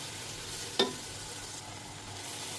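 A large batch of beef, over three kilos, frying with onion and spices in a pot: a steady low sizzle with one sharp scrape of stirring early on, close and without talk.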